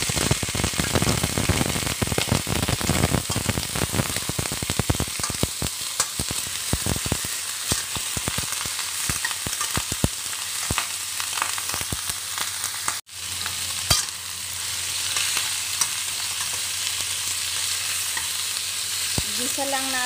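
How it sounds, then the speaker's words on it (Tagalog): Chicken drumsticks sauté in a hot pan with browned onion and garlic for pineapple chicken, a loud, continuous close sizzle broken by scraping stirs and clatters. "Gisa lang natin yung ating chicken drumstick hanggang medyo mag-brown po siya."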